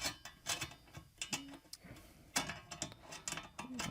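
Small metallic ticks and ratcheting clicks as a screw is turned into a T-nut beneath a universal interface pedal plate for sim racing pedals, close and irregular, with short pauses between bursts of turning.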